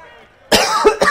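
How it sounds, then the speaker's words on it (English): A single sharp cough bursts out after a stretch of quiet game background, followed by a smaller second cough, loud and close to the microphone while playing a UFC 2 fighting game. "Coughing."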